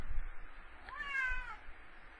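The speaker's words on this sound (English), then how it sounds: "My cat agrees." A house cat gives a single clear meow, fairly close, over a quiet room background with a low hum.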